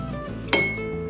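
Ice cubes dropped into a whiskey glass while an Old Fashioned is built: a single sharp clink that rings briefly and fades, close by, over quiet background.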